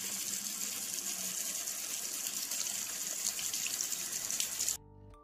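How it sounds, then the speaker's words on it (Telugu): Water runs steadily from an open tap in an empty hostel, a constant close hiss and splash that stops abruptly near the end, with no talk. "ఇంతలో అక్కడ ఒక ట్యాప్ ఆన్ చేసి ఉంది."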